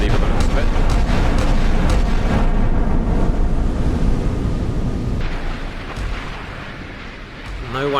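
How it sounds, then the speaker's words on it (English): Super Rapid naval cannons in a Sea Power naval battle fire continuously, a dense, loud barrage of overlapping booms that rolls on without pause, easing slightly toward the end. "all cannon being used defensively by the looks of it"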